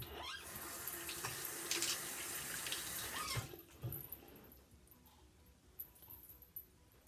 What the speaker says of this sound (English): I'm going to rinse it just so that it's moist and it's not rough on my skin